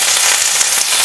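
Curry leaves hitting hot oil in a pan, a loud, dense hiss and crackle close up with no pauses across the short moment.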